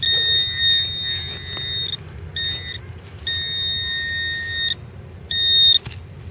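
A metal detector sweeping for gold and coins outdoors gives a steady, piercing high electronic tone in four on-off stretches of varying length, loud over a low rumble of background noise, with no talking.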